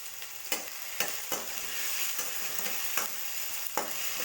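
Masala paste frying in oil for fish curry, a soft steady sizzle punctuated by regular scraping stirs of a spoon against the pan, no talking.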